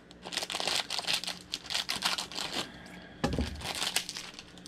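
Plastic packaging around a Funko Pop mini figure being cut open with scissors, giving a run of close, crinkly snips and rustles with a heavier crunch partway through.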